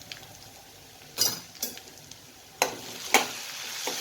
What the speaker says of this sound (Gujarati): હવે આપણે આ લસણ મરચું સતાડી લઈશું